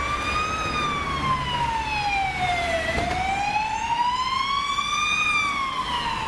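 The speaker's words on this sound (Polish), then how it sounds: "Brzmi trochę jak sygnał karetki pogotowia" A wailing siren rises and falls in slow, smooth sweeps, loud and steady with no voices, like an emergency vehicle passing close by.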